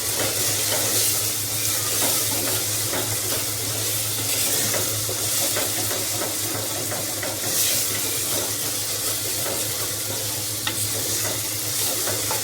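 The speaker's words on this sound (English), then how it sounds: "Stir it." Soya chunks curry being stirred in a pan, a steady scraping and sizzling of frying food that continues without pause, close and fairly loud.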